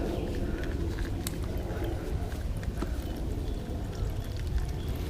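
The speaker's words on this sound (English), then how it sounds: "Drain some of the tank. There's still gas in it." Old gasoline drains steadily from the tank of a Craftsman mower with a Briggs engine, a continuous low trickling and splashing that runs unbroken, close by and fairly quiet.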